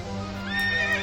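A horse whinnies in a short, high, wavering neigh with faint hoof clops beneath, close and fairly loud, a meme sound tied to the Team Fortress 2 Spy.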